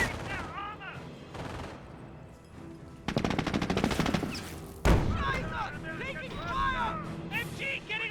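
Rapid MG42 machine gun bursts in a Company of Heroes 1 match between Wehrmacht and British forces, a dense rattling stretch midway mixed with battle booms and other combat effects, with commentary talking over much of it.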